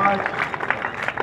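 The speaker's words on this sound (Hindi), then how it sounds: "हम चाहेंगे जोरदार ताली, ताली बजते रहनी चाहिए" Applause at a Bihar Police passing-out parade at the Rajgir police academy: a crowd claps steadily and densely throughout, a continuous patter of many hands heard at moderate distance.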